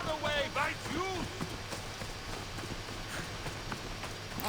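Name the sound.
horse trotting in video game Assassin's Creed Odyssey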